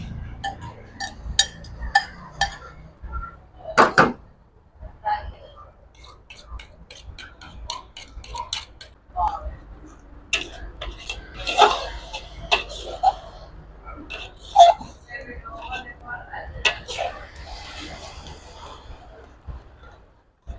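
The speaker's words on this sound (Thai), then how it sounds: "คั่วไปก่อนเนาะสักพักหนึ่งเคี่ยวซะก่อนเคี่ยวให้มันเหนียวเนาะ" Ground pork and blended chili paste stirred and scraped in a pan while cooking down, giving scattered ticking clinks and soft scraping throughout, with quiet talk in the background.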